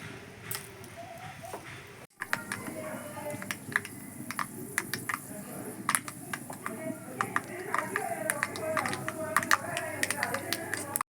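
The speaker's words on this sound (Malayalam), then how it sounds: "നമ്മുടെ കടുക് പൊട്ടി വരുന്നിട്ടുണ്ട്" Dense crackling and sharp popping of mustard seeds in hot oil, irregular and continuous, close up, beginning after a short pause.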